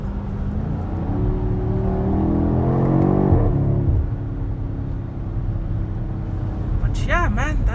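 A 2021 BMW X6M Competition rumbles under acceleration while driving, its exhaust swelling to a throaty peak before easing off, close and steady, with a person talking over much of it.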